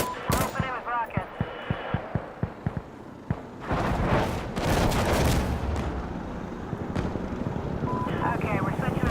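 Gunfire and rocket fire in the tactical shooter Insurgency Sandstorm: rapid sharp shots at first, then a heavy sustained roar of explosions and automatic fire, with voices talking over the battle.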